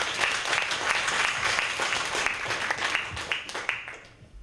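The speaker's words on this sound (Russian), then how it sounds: "Ваши аплодисменты." An audience at an April 2019 Udmurt community concert applauds as a singer returns to the stage. The clapping is full and continuous, with a few sharper individual claps standing out before it thins toward the end.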